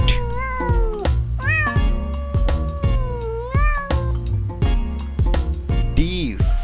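Several cat meows repeat one after another with a rising and falling pitch, loud and close, over a steady musical backing in a children's alphabet song.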